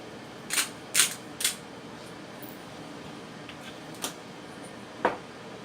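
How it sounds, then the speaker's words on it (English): A handheld pepper grinder gives three quick, crisp crunching twists close by in a quiet kitchen, then two more single twists after a pause. "And I'm going to grind up some pepper."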